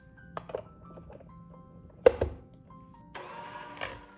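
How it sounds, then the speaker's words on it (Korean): A KitchenAid five-speed hand mixer whirs up near the end after a few light clicks and handling knocks, a close, steady motor hum. "다음은 키친에이드 핸드믹서입니다."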